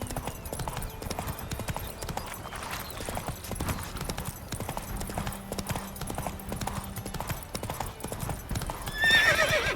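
Horse hooves in The Witcher 3 video game clopping in a fast, steady galloping rhythm throughout, with a neigh and a rise in loudness near the end.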